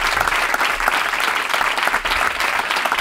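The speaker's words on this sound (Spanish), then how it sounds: "Pido un aplauso para Ignatius" Studio audience applause for comedians on a comedy show, dense and loud clapping that holds steady for the whole stretch, with no voices over it.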